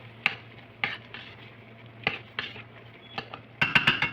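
A spoon stirs chicken masala, coriander powder and turmeric into tomato in a pan for a Kerala-style coconut chicken curry. Scattered metallic scrapes and clinks come at an uneven pace over a low background hum, with a quicker cluster at the end and no voices.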